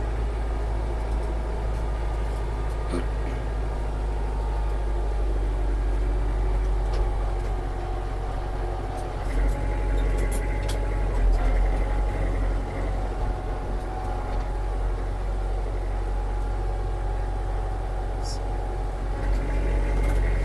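Steady idle-to-low-speed drone of a Mitsubishi MT-265 Japanese mini tractor engine, a continuous low rumble with a constant hum running throughout at close range.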